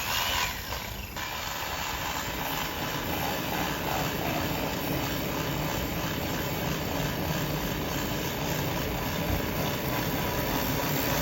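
A homemade jet engine roars steadily with a loud, continuous broadband rush that holds from start to finish after a brief dip near the beginning.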